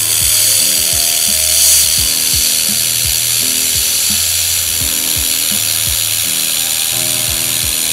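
A laser welder with a wire feeder runs close and loud, its feeder ratcheting and clicking in fast, regular mechanical bursts over a steady hum, heard alone.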